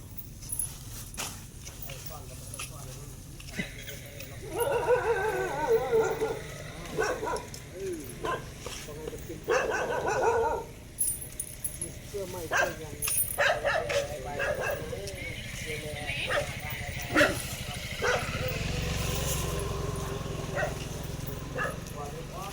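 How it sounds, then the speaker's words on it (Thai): Dogs bark on and off around a neighbourhood street during a walk. The barking is mixed with people talking, footsteps and some background noise. "เสียงหมาเห่าแล้ว"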